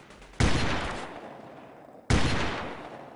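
Enemy gunfire in the shooter Delta Force 2, with two loud, sharp shots about two seconds apart, each with a long decaying echo.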